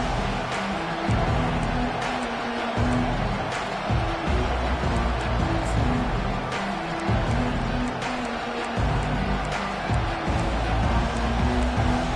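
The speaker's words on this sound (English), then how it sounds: "This crowd coming to life here, trying to help the defense get a stop with the offense pinned back." A stadium crowd in the NCAA 25 college football video game roars steadily, a dense wash of cheering that stays loud and continuous without pause.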